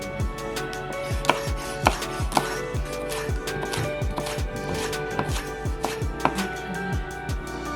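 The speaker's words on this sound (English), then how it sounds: "moving with the angle of the onion, I will be slicing all the way across" A knife slices steadily through an onion on a cutting board, producing a quick, even rhythm of crisp taps, close and fairly quiet, with no talking.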